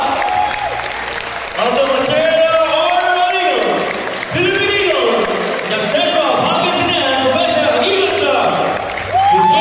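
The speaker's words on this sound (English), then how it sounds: "please give them a round of applause" An audience at a Fraternal Order of Eagles Philippine fraternity gathering breaks into loud applause and cheering, sustained rolling clapping with whoops that swells and dips over several seconds, with a voice speaking over it briefly.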